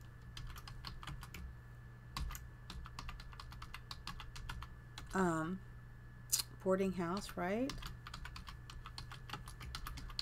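Rapid key clicks on a computer keyboard while building a boarding house in The Sims 4, steady irregular tapping across the whole stretch under a low hum, with someone speaking briefly over it.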